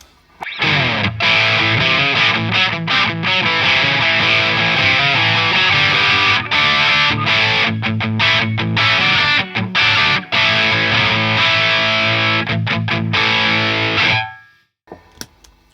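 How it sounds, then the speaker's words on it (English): An electric guitar played through a distortion effect rings out loud and saturated, with chugging and sustained chords for about fourteen seconds before cutting off into near silence. "Let's try the same thing with distortion."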